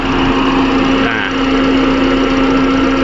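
A 2017 Toyota Vios engine idles smoothly and evenly up close, a steady hum with a constant tonal whine and no change in pace.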